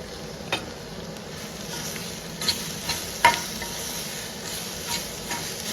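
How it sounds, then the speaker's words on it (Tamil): Grated coconut sizzles and crackles steadily in a hot pan as it fries, punctuated by occasional scraping stirs of a spatula, close by with no voices. "சேர்த்து அதையும் சேர்த்து நல்லா வறுத்துடணும்."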